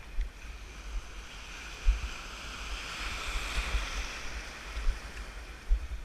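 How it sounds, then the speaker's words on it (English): Waves break and wash over a sandbar at Marbella beach, a continuous surf hiss with low rumbling surges and a couple of heavier crashes, mixed with wind noise and no talking. "And now we're on a sandbar, so the waves break."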